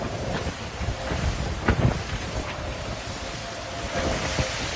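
Wind-blown rush of waves and spray around a fast foiling sailboat racing at high speed, a steady broadband wash with brief splashes and no voices.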